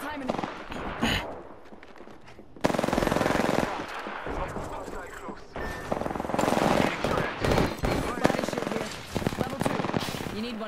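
Rapid bursts of gunfire from a Mozambique shotgun loaded with hammer point rounds in a battle royale shooter game, loud repeated blasts and impacts over game effects, with a player talking throughout.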